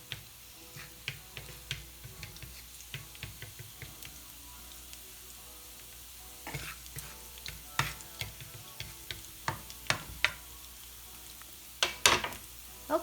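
Garlic frying in a pot for a traditional Chinese cabbage dish: a soft, steady sizzle with frequent light ticks and spatters from stirring, growing busier toward the end, close and fairly quiet with no talk.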